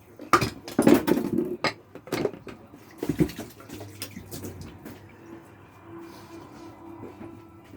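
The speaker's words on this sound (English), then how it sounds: "I'm going to put the stock into the onions and mushrooms." Stock poured into a pan of onions and mushrooms, with a few sharp clanks and splashes up front followed by a softer, steady sizzle and bubbling as it settles.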